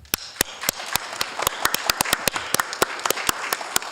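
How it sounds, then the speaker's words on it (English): Applause from a League of Women Voters candidate forum audience on Measure C: sparse, distinct individual claps over a soft bed of clapping, fairly close and moderately loud, with no voices. "Give everybody a round of applause."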